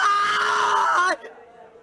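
A character in the video game Chaos;Head Noah lets out a loud, sustained scream lasting about a second, strong and close, then cutting off abruptly into quiet.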